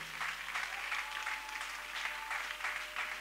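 A church congregation claps in praise of the Lord, a dense, steady applause of many hands that fills the room without pause, with no voices heard.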